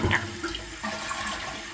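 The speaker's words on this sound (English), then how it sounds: "drain the water out of here by just flushing it" A household toilet flushes as it is drained during a DIY repair of a running toilet, a loud close rush of water at the start settling into steady draining swirl, with no talking.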